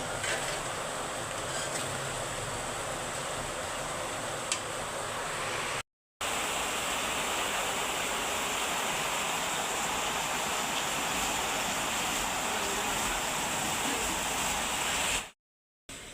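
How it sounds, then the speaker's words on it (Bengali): Sudden midday rain falls outside as a steady broadband wash of noise, even and sustained, with two brief dropouts. "হঠাৎ করে বৃষ্টি পড়তেছে"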